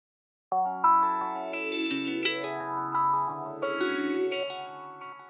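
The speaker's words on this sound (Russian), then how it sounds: "Давайте добавим к этому фазор." A delayed synth-like melodic line with a sweeping, swirling phaser modulation in REAPER, notes echoing and overlapping for several seconds with no talking.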